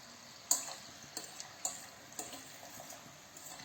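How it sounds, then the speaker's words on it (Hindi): Food frying in a pan in a home kitchen, a faint, steady sizzle broken by scattered soft clicks and light stirring knocks, heard alone. "तो मैं आपको दिखाती हूँ किस तरीके से फ्राई हो रहे हैं।"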